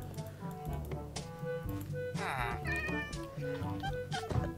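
Repeated meows from a tiny cat in a video game, several rising cries layered over busy game sounds and music, close and fairly loud.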